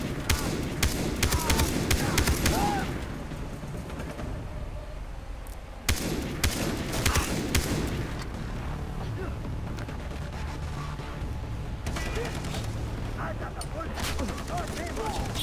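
Gunfire and explosions in the shooter video game Far Cry 3 come as dense bursts of rapid shots and heavy booms, loud and continuous, with a voice speaking over parts of the action.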